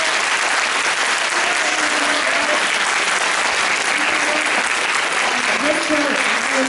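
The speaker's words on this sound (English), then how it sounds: "Maybe have a big applause for our guests." A convention audience at a cosplay guest session applauds the guests, a full, steady round of clapping lasting throughout, with faint voices murmuring underneath.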